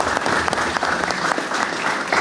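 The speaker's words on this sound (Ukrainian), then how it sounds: "зараз можна аплодувати" An audience claps steadily and loudly throughout at the swearing-in of a new regional governor in Zakarpattia, a dense, even applause with no voices on top.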